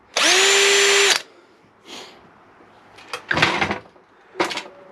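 Power drill with a 1/4 inch bit drilling out a hole on a Baja buggy, a loud, close burst of steady motor whine lasting about a second, then quieter clunks and shuffling handling noises after it.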